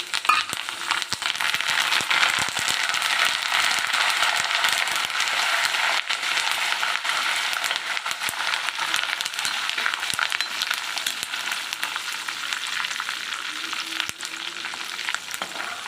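Curry leaves fry in hot oil for a savoury Tamil mixture snack, a steady, dense sizzle and crackle running evenly close up with no talk over it.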